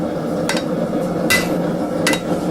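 Three sharp metallic strikes ring out at a steady interval as a piece of steel is chopped off during blade forging, each hit crisp and close over a low background hum.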